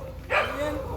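A large dog named Pulgoso gives a single short bark close by, a brief burst over a steady background hum.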